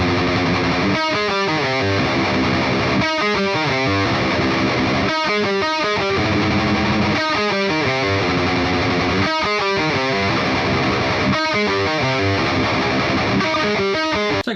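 Heavily distorted electric guitar in drop C run through a Line 6 Mercator amp simulation, playing chugging palm-muted riffs with rhythmic stops and accented chords, loud and dense throughout with no voice.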